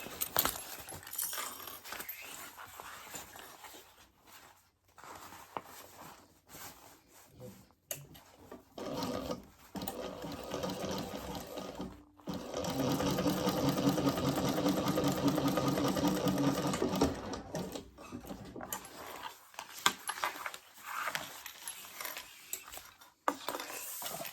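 A sewing machine top stitching a laptop bag, its motor running in bursts with a long steady run in the middle, alongside handling clatter and a faint voice.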